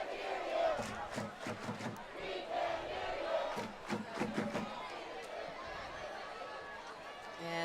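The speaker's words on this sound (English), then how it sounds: "Crowd getting into it here." Spectators at a high school varsity football game rumble and cheer in a broad crowd swell, louder in the first half and easing off, with an announcer talking over it.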